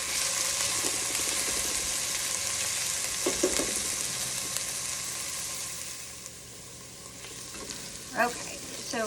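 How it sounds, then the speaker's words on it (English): Steady sizzling of vegetables sautéing in a pan, a continuous crackling hiss with occasional stirring clatter, close and fairly loud throughout. "Just all that awesome sizzling."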